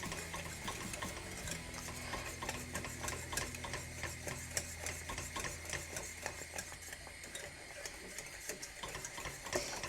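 A spoon stirs creamy porridge in a pot in rapid repetitive scraping strokes, close and steady, with a low hum in the background and no speech.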